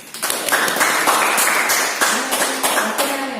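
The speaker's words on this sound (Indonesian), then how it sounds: "kasih tepuk tangan dulu" Students applaud in a classroom, a burst of brisk hand claps from a small group that rises quickly and continues in uneven rhythm, fairly close and loud.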